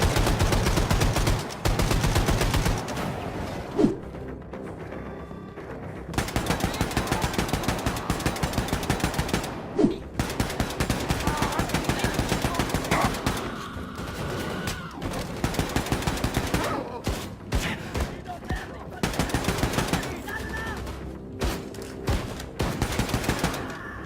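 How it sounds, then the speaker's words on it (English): Gunfire in the first-person shooter Wolfenstein II: The New Colossus, loud rapid machine-gun bursts and single shots in repeated volleys, dense and sustained with short gaps between bursts, with no voices. "Wolfenstein II: The New Colossus definitely delivers on the gunplay"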